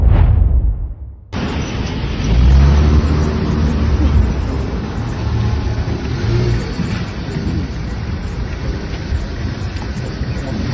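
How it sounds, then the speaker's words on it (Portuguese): A car drives past a house's doorstep and revs, its engine roar rising loud and close after a brief hush, then holding as a broad, sustained rumble with wind noise. "O carro passou aí."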